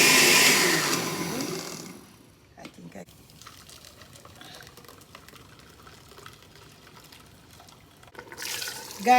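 Water splashes loudly into a pot of boiling lentils for about two seconds, followed by quieter kitchen clatter and a faint hiss, with another splash at the end.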